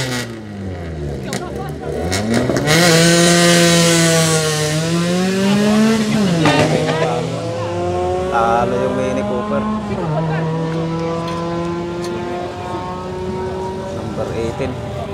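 Drag racing cars launch and accelerate hard at an American-style drag race in Penafiel, Portugal, with loud, rising engine roars and rapid gear changes, close to the listener and lasting several seconds.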